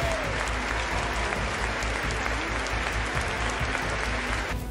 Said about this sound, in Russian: Тем временем Франция овациями встречает президента Украины Владимира Зеленского.